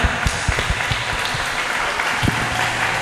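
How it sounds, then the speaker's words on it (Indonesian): A crowd at a Ramadan religious lecture in a pesantren applauds in a steady, dense patter, with a few low thumps standing out through the three seconds. "Yo, tepuk tangan semuanya."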